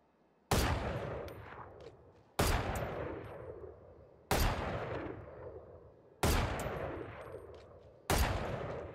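Test shots from a Valorant weapon aimed at a 50-meter target: five loud single shots spaced about two seconds apart, each a sharp crack followed by a long, fading echo tail.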